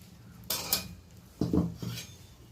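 A metal kadai wok is set down on a home stovetop, giving a few close, sharp metallic clanks and knocks in two short bursts, with no voices.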